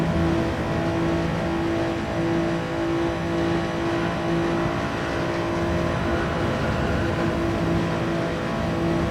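Hyundai race car engine droning steadily at high revs on the Monza circuit in a racing game league, running on soft tyres, a continuous loud tonal whine with no talk over it.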